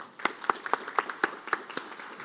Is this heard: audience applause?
yes